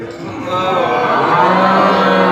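A crowd of people imitating cows mooing together at a spiritual gathering, a loud sustained drawn-out moo chorus that rises and holds to the end.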